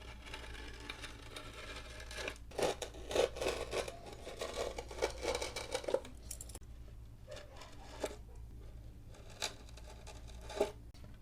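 A butterfly knife cutting skateboard grip tape on a Beetlejuice Welcome board: scratchy rasping and tearing strokes in irregular bursts, close up over a low steady hum, with no talk.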